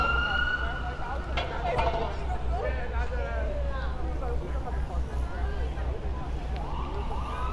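An ambulance siren passes along a New York City street, its wailing tones sweeping up and down over steady traffic rumble and a person talking throughout.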